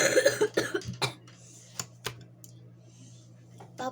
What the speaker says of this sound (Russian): Не кашляй!